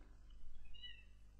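A single faint cat meow in Clock Tower for the SNES, short and thin, rising over a quiet low hum.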